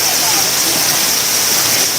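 Heavy tropical rain pours down steadily outdoors during a bull-racing practice in Madura, Indonesia, a dense, loud, unbroken hiss that fills the whole soundscape and masks everything else.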